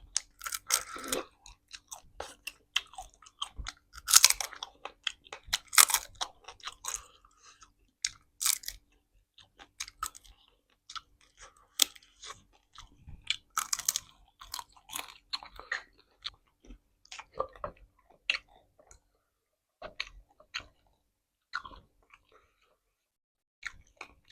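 Crunchy baked chicken feet bones being chewed close to the mic, with irregular bursts of crisp cracking and munching separated by short pauses, continuing throughout.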